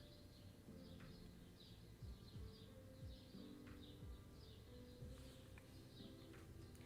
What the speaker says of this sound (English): Hear the birds again. They're all chilling out.